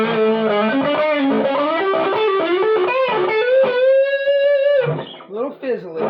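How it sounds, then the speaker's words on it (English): Electric guitar through an MXR Custom Badass '78 Distortion pedal with distortion at its middle setting, playing a loud compressed, fizzy riff of quick notes that ends on a held bend, then short squealing slides. "Get the distortion all the way into the middle position."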